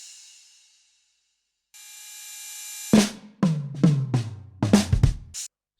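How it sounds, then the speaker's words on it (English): A crash cymbal rings out over an afrobeat drum beat: a sustained bright wash, then a run of punchy drum hits with the cymbal shimmering on top, close and clear. "then some crash like this"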